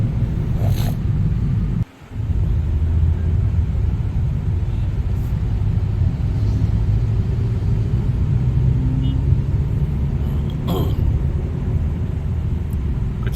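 A car cruises along a highway at night on the Rewa to Nagpur route. A steady, loud road and engine rumble is heard from inside the cabin, with one brief dip early on.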